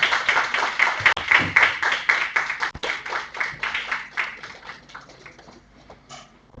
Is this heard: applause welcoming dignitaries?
yes